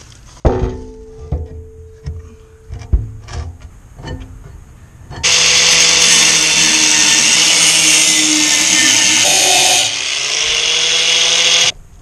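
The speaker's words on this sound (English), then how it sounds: "I'm gonna take the grinding wheel, cut off this right here on both sides." A grinding wheel cuts through metal on a DIY kayak trailer build: a few scattered clanks and handling knocks, then a loud continuous high-pitched grinding shriek that holds for several seconds, briefly shifts pitch, and stops abruptly.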